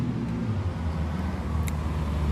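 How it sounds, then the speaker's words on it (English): A bus passes on a road beside a broken roadside, a steady low engine rumble and rolling tyre noise filling the scene at close range with no speech. "Another bus."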